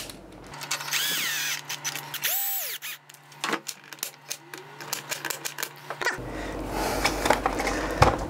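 A power screwdriver drives screws into a 3D-printed plastic 737 throttle unit, sounding in several short whirring bursts with rising and falling pitch, close and clear, followed by handling clatter.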